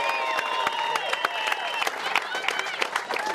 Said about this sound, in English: Please give a round of applause again to Tony Windsor